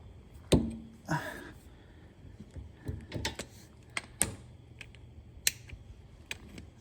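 Sharp, scattered clicks and knocks from a ratchet wrench while replacing the rear shock on a 2003-2008 BMW Z4 E85 with Bilstein B8 shocks, close and fairly loud, with uneven gaps and no talk.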